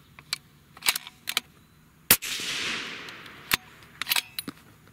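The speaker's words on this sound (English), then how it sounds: "We're going to be shooting at the right of the center diamond with that 110 Vmax and benchmark." A single loud rifle shot from a Savage 110 light varmint rifle in .308 Winchester with a 110-grain V-Max load cracks out mid-clip and then decays, surrounded by scattered clicks and handling noises outdoors.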